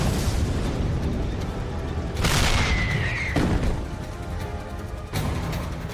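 A tank gun fires in a WW2 tank battle near Paderborn: a loud, close boom at about two seconds sets off a heavy rumbling blast that rolls out over several seconds, with a second strong crack near the end amid constant battle noise.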